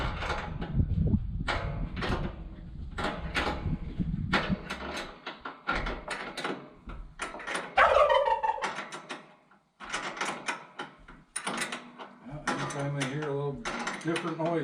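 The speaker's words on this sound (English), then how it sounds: "That old Tom, he's got a gobble." A tom turkey gobbles in a barnyard among hens, with repeated rippling gobble bursts near the middle and end over a busy background of fowl noise and rustling.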